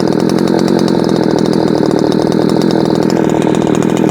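A ported Shindaiwa 600SX chainsaw held at high revs, a loud buzzing snarl with a rapid pulsing flutter, very close, with the pitch climbing slightly near the end.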